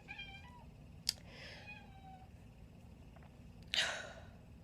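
A cat meows a few times close by: a short call near the start, a sharp one around the first second, a drawn-out whine, then a louder meow near the end over low background hum.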